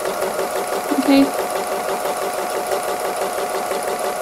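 A sewing machine stitching free motion embroidery runs in a steady mechanical whir with rapid needle chatter, while a voice speaks briefly over it.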